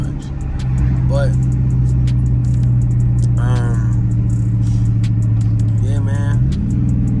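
A Dodge Charger SRT engine held in second gear while driving in the early morning, a loud, continuous close rumble with a drone that rises near the end, while someone talks over it.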